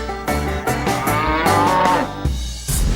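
Cattle lowing in a video game, a big cow that suddenly drops onto a character: loud, close, repeated moos in a few long drawn-out calls with short gaps between them.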